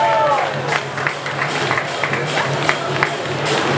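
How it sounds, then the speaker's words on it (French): An audience at a gastronomy competition applauds a contestant with steady, moderately loud clapping that fills the whole stretch. "Applaudissez-la."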